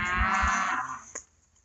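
A heifer gives one close, loud moo, a drawn-out throaty bellow that fades after about a second, followed by a faint brief knock, in an outdoor farm setting.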